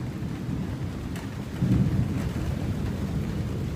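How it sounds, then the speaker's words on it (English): Steady rain patters through a Florida thunderstorm during the rainy season, with a low rumble swelling briefly midway, no voices present. "It's starting to rain a little bit harder"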